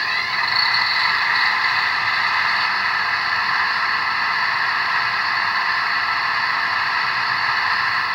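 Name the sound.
Rapido FL9 model locomotive buzzing HEP generator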